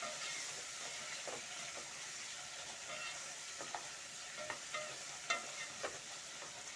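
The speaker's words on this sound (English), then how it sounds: "We continue by stirring." A pot of black beans with onions and tomatoes simmers and sizzles softly while a spoon stirs, giving faint scraping clinks now and then over a steady hiss, no talking.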